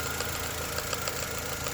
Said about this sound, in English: this is the sound from the engine when you press the clutch